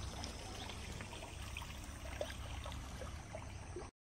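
Water trickling in an ancient hot spring tank at Unhavare, Dapoli: a soft, steady dribbling flow with a small splash midway, quiet and alone, ending abruptly in silence.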